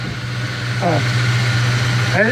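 A 1975 Chevy C10 pickup's 350 four-bolt-main V8 idles with a steady low rumble close to the microphone, while someone talks briefly over it.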